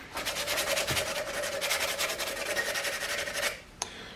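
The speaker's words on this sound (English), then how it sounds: "now I'm just hand sanding, trying to get all the scratches from the sandpaper out of it" Rhythmic back-and-forth rasping of sandpaper on a forged metal hardy hole fuller, fast even strokes, close and continuous, ending with a light tap.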